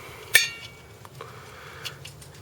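The air cleaner lid goes onto a 1970 Corvette LT1 370 hp engine with one sharp, bright metallic clink, followed by a few fainter taps and light knocks in a quiet setting.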